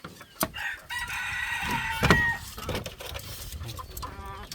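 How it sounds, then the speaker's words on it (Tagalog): A red junglefowl rooster (labuyo) crows once up close, loud and drawn out, with clucking and other farmyard fowl calls scattered around it and no voices. "Tilaok po yun"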